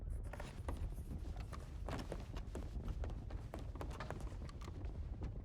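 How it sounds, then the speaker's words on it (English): Many hooves clatter steadily over rough ground, a dense drumming of footfalls with low rumble, sounding like several horses moving close by. "Horses coming in."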